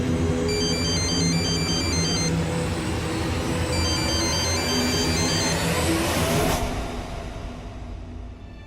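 A telephone ringtone plays repeatedly in a melodic pattern, goes unanswered for several seconds, and then cuts off, leaving a fading background hum.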